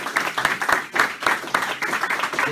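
Audience applause for Luis Clergé Fabra at a university talk, a steady burst of many hands clapping close by that rises and falls in waves for a couple of seconds.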